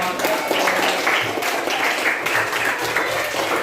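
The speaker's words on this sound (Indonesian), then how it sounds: "Tepuk tangan dulu dong." A class of students in a classroom clap their hands in sustained, loud applause that runs steadily throughout without a break.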